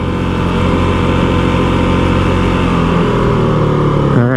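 A Honda CRF450RL dirt bike engine runs loud and close on a night ride, holding a steady, dense drone for the whole stretch with a slight change in pitch near the end. Distinct pops are hard to pick out.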